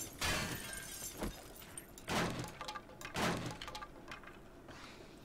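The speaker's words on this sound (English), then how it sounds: "Sounds like someone's trying to break through from somewhere." A zombie breaks through in 7 Days to Die, three or four sharp cracking, splintering impacts spaced about a second apart, fairly close and fading into rough debris rattle.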